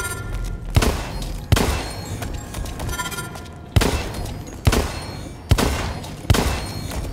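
Pistol fire in the shooter game Blacklight Retribution: sharp single shots spaced irregularly, about seven in all, each a loud crack with a short echoing tail over a low background hum.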